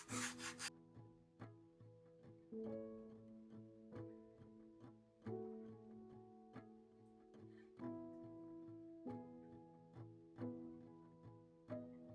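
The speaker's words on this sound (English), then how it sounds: "I'm just going to use sandpaper to take off those extra millimeters" Sandpaper rubs against the edges of a book being rebound in repeated back-and-forth strokes, soft scratchy rasps that come in a steady rhythm, heard close and quiet over a faint tonal background hum.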